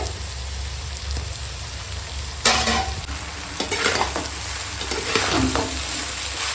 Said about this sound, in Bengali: এখন ভাতটা দিয়ে সুন্দর করে হালকা হাতে মিশিয়ে নেব